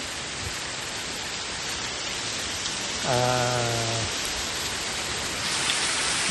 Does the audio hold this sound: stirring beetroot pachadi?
no